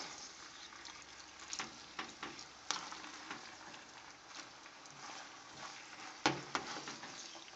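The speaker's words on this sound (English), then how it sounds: "let me get this hamburger meat all mixed up and more brown" Hamburger meat sizzles and fries in a pan while being stirred, a steady crackle broken by scraping clatters of the spatula, close and moderately quiet, with no talking.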